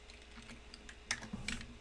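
Someone types on a computer keyboard, a quiet, quick run of light key clicks with a few sharper taps near the end.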